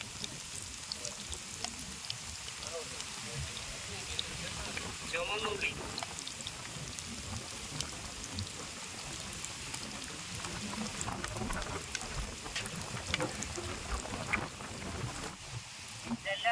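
Strong wind roars steadily across the microphone at an outdoor cooking spot the whole time, a loud, unbroken broadband rush with gusty swells.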